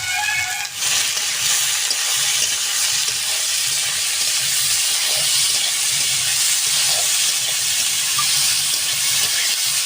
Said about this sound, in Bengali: এদিকে লাউর খোসাটা ভাজা হোক